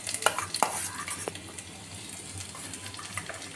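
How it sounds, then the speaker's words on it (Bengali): Chopped ginger sizzles in the oil left in a wok after frying prawns, with steady close crackling broken by a few sharp metallic clinks of a spoon against the pan. Nobody speaks. "এবার আমি কড়াইয়ে যে তেলটুকু রয়েছে প্রনটা ভাজার পর, তাতে আমি বাকি ইনগ্রেডিয়েন্টসগুলো অ্যাড করব"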